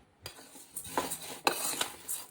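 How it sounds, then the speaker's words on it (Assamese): Black gram dal dry roasting in a kadai, with a few soft scrapes and rustling stirs of the lentils against the metal pan, fairly quiet and close, no voices. "মাটি দালিখিনি অলপ ভাজি ল'ম, অলপ কেৰাহীত মানে শুকানকৈ ভাজি ল'ম"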